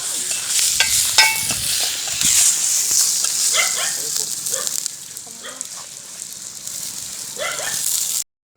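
Banana flower frying with sautéed tomato in a pan gives a steady, bright sizzle throughout, with scattered stirring clatters, a brief voice and a dog bark in the background.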